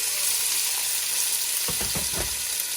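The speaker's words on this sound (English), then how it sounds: "at this point, we're going to add in our beef" Beef hitting a hot pan for Tex-Mex fideo con carne, a loud steady sizzle with a few scraping stirs near the end, close and without talk.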